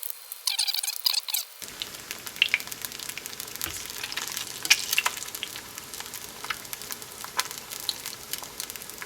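Eggs fry in a pan with a steady, close sizzle and scattered sharp crackles throughout, with no talking.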